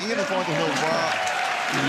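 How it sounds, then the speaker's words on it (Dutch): Applause from the crowd at a fierljeppen canal-vaulting competition, a steady wash of clapping heard under a commentator's voice that runs throughout. "En het applaus is er voor Germ Terpstra."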